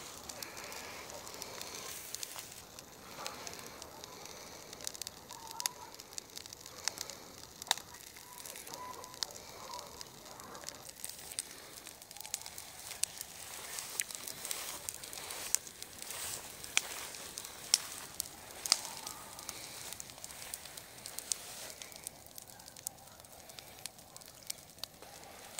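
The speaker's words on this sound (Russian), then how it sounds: "Огонь получился шикарный." A bonfire of old dry weeds burns outdoors on a homestead, giving a faint, steady crackling hiss with scattered pops. Distant bird calls drift in behind it.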